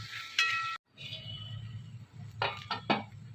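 Fried soybeans being stirred into cooking masala in a pan: a spoon scrapes and clinks against the metal several times, with a short gap and then a quick cluster of sharper knocks near the end, close and fairly quiet.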